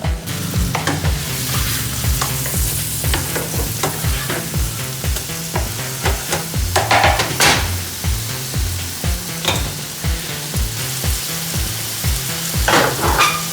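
Burgers fry in a pan with a steady, loud sizzle, while regular scraping and tapping strokes from a spatula or turner repeat throughout at a brisk, even rhythm.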